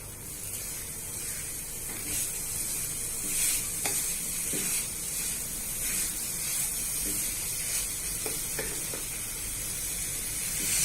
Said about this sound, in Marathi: ते तीन मिनटं मस्त हलवत राहा खाली चिपकायला नको याची काळजी घ्या